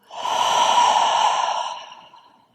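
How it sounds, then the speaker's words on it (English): A single long, soft exhale out through the mouth during a guided morning yoga breathing practice, breathy and close, swelling then fading over about two seconds with no talking. "exhale out through the mouth"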